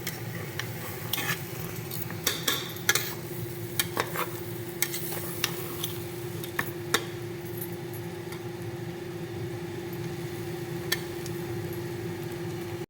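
Onion- and garlic-free masala paste for soya chunks pulao frying steadily in a pan, a constant close sizzle broken by frequent sharp clinks and scrapes of a stirring spoon against the metal.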